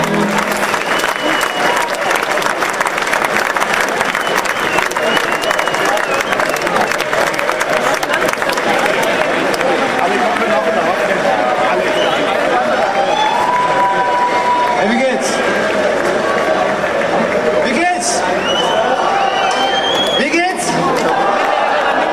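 A concert crowd at the Bardentreffen in Nürnberg breaks into sustained, loud applause with scattered cheers and chatter, clapping steady throughout while a voice speaks over it.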